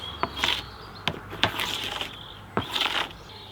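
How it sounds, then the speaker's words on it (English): A wasp buzzes close by near a beehive during sugar-syrup feeding, its droning whine rising and falling in several short passes with sharp clicks and bumps in between, no talking. "That was a wasp."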